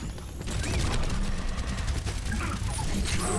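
Sustained rapid gunfire in an Overwatch match, a continuous, fairly loud stream of repeated shots close by that runs nearly the whole time with mechanical clicks mixed in and no talking.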